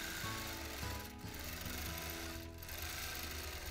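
A domestic sewing machine free-motion quilting a freehand filament design, run slowly under a hopping foot: a steady, close, continuous motor whir and rapid needle chatter, with two brief dips in speed.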